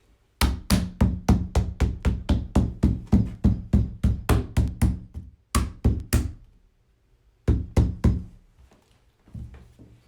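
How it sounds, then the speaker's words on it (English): A rubber mallet knocks chicken cage parts together in a fast steady run of about twenty loud, close, dull thuds, then a few more short bursts of knocks after brief pauses. "Again, use your rubber mallet."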